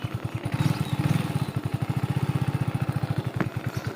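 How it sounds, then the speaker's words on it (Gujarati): A motorcycle engine chugs in a rapid, steady beat, running close by with a slight clatter and no voices over it. "ચલો આપણે બાઇક સ્ટાર્ટ કરી દઈએ."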